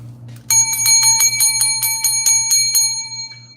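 A bicycle-style bell rings in a rapid series of about ten bright metallic dings, close and clear over a low background hum, with no talk.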